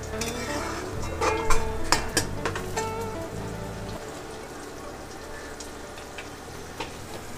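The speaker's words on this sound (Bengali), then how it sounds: "ততক্ষণ এভাবে কনস্ট্যান্ট নাড়াতে হবে।" Spices being stirred constantly in a pan for a festive lunch: a quick run of scraping, clattering strokes over the first half, then a softer steady hiss as the stirring eases.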